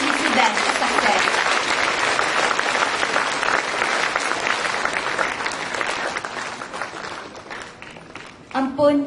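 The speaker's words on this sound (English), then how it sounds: "We believe every one of us deserves another round of applause for all the each effort" Sustained clapping from a large school audience at a formal speech day ceremony, dense and steady for several seconds before tapering, with a burst near the end.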